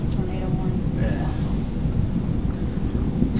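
During a Florida lightning storm, thunder rumbles as a low, continuous roll mixed with wind buffeting the microphone, loud and steady across the whole stretch with no distinct crack.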